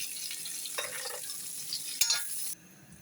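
Cauliflower sizzling in hot oil in a home kitchen, a steady quiet frying hiss with brief stirring and utensil clinks before the sizzle drops off.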